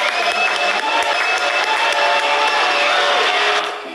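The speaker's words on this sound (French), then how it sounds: "Applaudissements pour Lou Anne, qui a 13 ans." A TV studio audience applauds and cheers for a 13-year-old guest: steady, close clapping mixed with whoops and crowd noise, sustained throughout and tapering slightly at the end.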